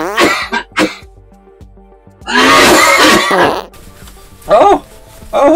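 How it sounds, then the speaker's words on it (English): An adult man coughs several times up close, with loud harsh bursts including one long fit and a throat clear, and faint background noise between them. "I haven't coughed for a couple of days, and today I do my voiceover, and what happens?"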